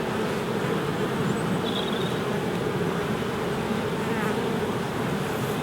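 A honeybee colony drones loudly and continuously as the hive is opened for inspection, a dense, close buzzing with no voices over it.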